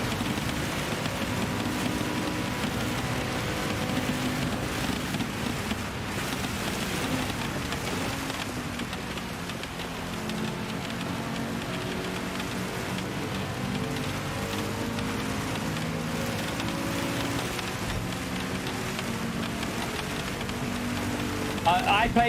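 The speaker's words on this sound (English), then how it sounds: "The rain ain't going anywhere." Steady rain hiss from a wet race in the video game Gran Turismo 7, running continuously beneath droning car engine tones across the whole stretch.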